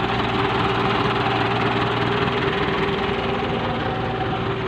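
A New Holland TS90 tractor engine idles steadily at close range, a loud continuous rumble with a constant drone and no voices over it.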